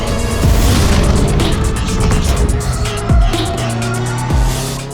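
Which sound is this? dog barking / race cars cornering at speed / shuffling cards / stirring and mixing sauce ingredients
race cars cornering at speed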